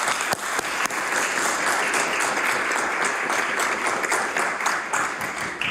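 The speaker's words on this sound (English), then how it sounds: "I would like for this House to give these ladies a round of applause" Steady, full applause in a legislative assembly chamber, with members clapping together; the sound is continuous and fairly loud from start to finish with no voices over it.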